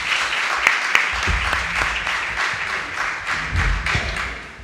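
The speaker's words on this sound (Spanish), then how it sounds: "Y con un aplauso y con todo nuestro cariño, nosotros te recibimos." An audience applauds, a dense, steady wash of clapping from many hands filling the room, with scattered louder claps and faint voices underneath.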